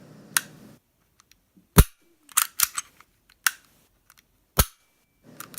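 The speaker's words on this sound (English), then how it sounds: "The trigger's really good, a little bit of take up, and then a smooth, consistent pull all the way to the rear." Dry trigger pulls and resets on a striker-fired Kahr CW9 9mm pistol produce a series of sharp, close mechanical clicks in a quiet room, coming singly and in quick pairs with short pauses between them.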